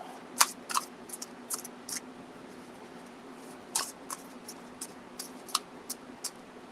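Oracle cards are shuffled by hand, making soft, close riffling snaps and clicks in irregular bursts, a dozen or so quick taps spread over a quiet room background.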